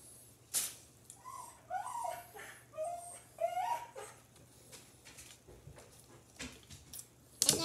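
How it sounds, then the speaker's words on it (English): A household dog whimpers and yips in a short series of high, wavering whines at moderate distance, with a sharp clatter at the start and end and a low hum underneath. "The dog just tried to steal Emma's sandwich."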